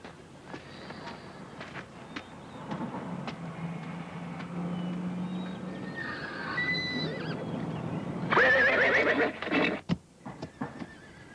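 A horse whinnies loudly at a rodeo amid rumbling background noise, followed by a few sharp knocks and clatters near the end.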